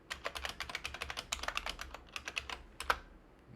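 Password being typed on a computer keyboard while setting up a Windows 11 machine: a quick, steady run of crisp key clicks, close and fairly quiet, with one sharper keystroke near the end.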